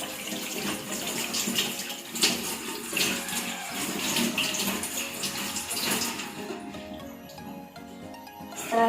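Steady running water from a tap rinsing hands clean in a patient-care setting, a continuous close splashing hiss that fades out near the end.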